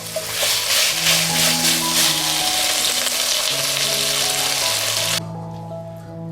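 Food sizzles loudly in a wok as seasoning and chicken bouillon go in and get stir-fried, a dense continuous hiss with a steady tone running under it, dropping abruptly near the end.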